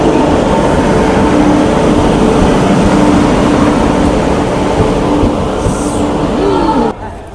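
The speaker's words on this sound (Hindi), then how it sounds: "ये आ गई मेरी ट्रेन।" A passenger train running from Gandhinagar to Indore rolls into a station platform with a loud, dense, steady rumble and clatter close by, which drops away abruptly at the end.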